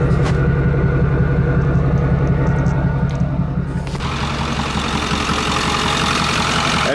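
A 6.4 Powerstroke diesel truck engine idles steadily with a deep, rumbling drone, loud and close, its tone shifting slightly partway through.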